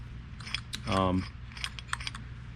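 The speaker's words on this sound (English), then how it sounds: "you can run the bolts all the way down" A ratcheting tool runs bolts down into blind holes while a Cobra crank support is installed: one brief, close burst of rapid clicks about a second long, with faint background clatter before and after.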